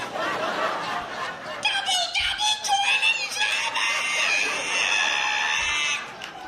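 A voice imitates a long, high squeaky creak with wavering shrieks, like a rusty hinge straining open, mimicking an ironing board being opened.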